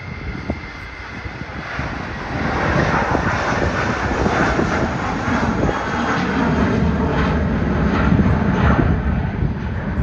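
A Jetstar Airbus A320 airliner departs with a broad, steady jet roar that swells after a couple of seconds and holds loud and rumbling throughout, heard from a distance outdoors.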